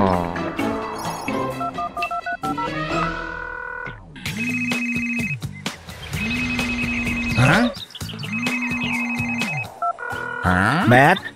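A cartoon telephone rings in repeated electronic bursts against a music score, loud and close, with a few animated voices and effects between the rings.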